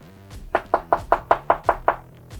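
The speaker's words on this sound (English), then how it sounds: "Let me just knock on this door here." Eight quick, evenly spaced knocks rap on a house door, loud and close, with a short rhythmic burst then quiet.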